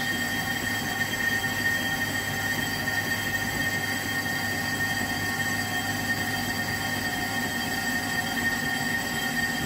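Brake discs on an Audi RS3 are machined level on the car, giving a steady, continuous metallic whir and grinding hiss that holds evenly throughout.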